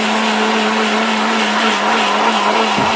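Steel-bodied electric blender grinding chillies at a steady high whine, a loud continuous motor drone with a constant pitch and no pauses or talk.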